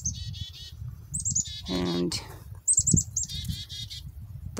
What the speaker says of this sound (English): So you can hear the birds already.